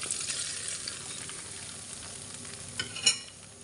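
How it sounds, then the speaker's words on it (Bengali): Chopped onion, garlic and dried chilies hitting hot oil in a pot for Ramadan halim give a steady, fairly quiet hiss of frying, with a couple of brief clinks of a utensil near the end. "তেল গরম হয়ে আসলে দিয়ে দিচ্ছি পেঁয়াজ কুচি, রসুন কুচি, শুকনো মরিচ"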